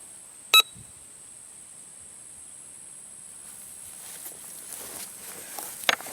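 A Bounty Hunter Quick Draw II metal detector gives one short, sharp electronic beep near the start, then a quieter faint beep near the end, over low background hiss and faint rustling.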